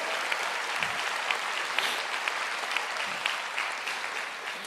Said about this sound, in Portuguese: aplauda o Rei dos Reis